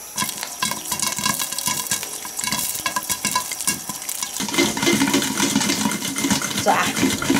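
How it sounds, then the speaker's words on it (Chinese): Dry corn kernels stir-fried in a wok to make popcorn give a steady scraping, rattling clatter that grows fuller and louder partway through, with faint voices in the background. "把包谷倒进去炒过"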